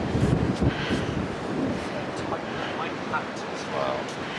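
Strong wind gusts buffet the microphone outdoors, a constant roaring rumble with bursts of heavier blasts and no speech.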